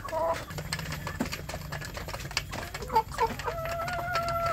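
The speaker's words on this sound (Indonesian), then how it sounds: "Ini anak ayam kampung saya ini yang sudah mulai besar-besar ini, ya." Young free-range village chickens clucking on a small farm, several short close clucks and calls scattered over a quiet, faintly humming background.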